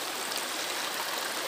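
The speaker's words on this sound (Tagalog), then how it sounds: "Doon, galing ang tubig sa loob ng lupa" Spring water wells up from the ground and flows in a steady, broad rushing wash like a small stream, close and continuous, with no voices.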